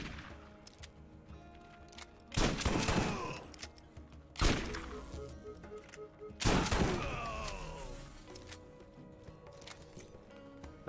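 Game gunfire in Borderlands: three heavy shots or bursts at roughly two-second intervals, each loud with a short decaying tail, over a low continuous game background.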